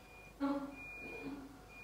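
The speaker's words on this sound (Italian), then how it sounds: "c'è una bella sveglia che sta suonando dalle 4 di pomeriggio" An alarm clock rings in a home as a steady, thin, high electronic tone over a faint refrigerator hum. A brief voice-like sound breaks in near the start.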